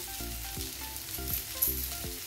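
Onion, garlic and masala sauté in a pan with a faint, steady sizzle, broken by repeated rhythmic scraping strokes of stirring every half second, close but quiet and without speech.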